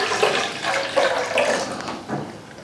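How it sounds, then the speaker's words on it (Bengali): About a litre of water is poured into a slush machine, giving a steady, close splashing and gurgling stream for a few seconds with no talking. "এখানে 1 লিটার আমি জল দিয়ে দেবো"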